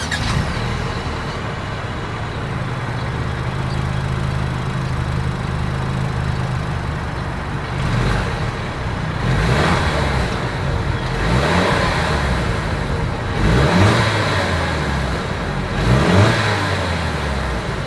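A Mercedes-Benz E350 E-Class with dual exhaust idles with a low steady drone, then several sharp revs rise and fall in quick succession toward the end, loud and close with no talking.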